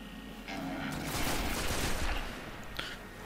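Distant gunfire from enemies shooting at each other in Destiny, a muffled crackling burst of fusillade that swells and fades, with faint voices in the background.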